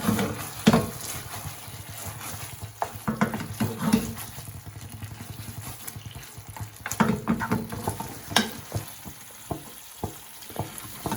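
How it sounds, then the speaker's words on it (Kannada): Paneer manchurian being stir-fried in a pan, a continuous close sizzle broken by irregular scraping and stirring strokes of a spatula. "ಈ ಥರ ಒಂದು 2 ಮಿನಿಟ್ಸ್ ತನಕ ಫ್ರೈ ಮಾಡ್ತಾ ಇದ್ರಿ"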